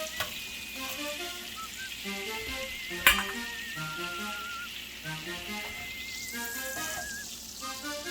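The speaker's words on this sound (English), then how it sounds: "I got my bread over here cooking." Bread fries in a pan for an Irish breakfast, a soft, steady sizzle with gentle popping and one sharp clink partway through, quiet and close.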